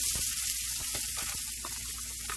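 Onion chunks sizzle steadily in hot avocado oil in a skillet over medium-low heat, a broad continuous hiss with faint crackles, close and even throughout.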